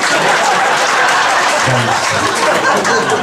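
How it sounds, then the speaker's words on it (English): A comedy club crowd applauds students at a stand-up show, loud sustained clapping mixed with chuckles and chatter, with a short voice cutting in midway. "Give it a round of applause to students"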